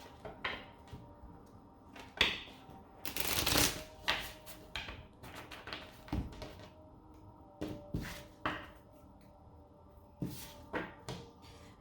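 A Numerology Oracle card deck being shuffled by hand, with repeated soft riffling bursts and card taps at an uneven rhythm, close and fairly quiet, with no talking.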